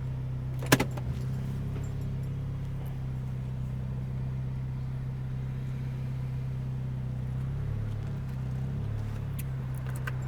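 A 14-year-old Volkswagen GTI engine idles steadily with a low, even hum, a brief click near the start and slight revving swells later on.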